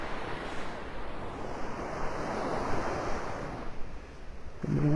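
Surf washing ashore on Vanderbilt Beach in North Naples, Florida: a broad, continuous rush of breaking waves with some wind buffeting on the microphone, close and fairly loud, no voices.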